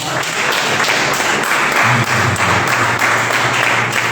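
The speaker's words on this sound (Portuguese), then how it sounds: "Você pode aplaudir o nome de Jesus" Church congregation clapping together in a dense, steady wash of applause, loud and close, with faint voices under it.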